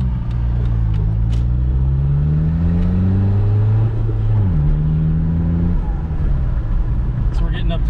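A diesel VW Jetta TDI revs up hard with a rising, droning engine pitch that drops briefly and climbs again while building boost, loud and close from inside the car, with people talking over it.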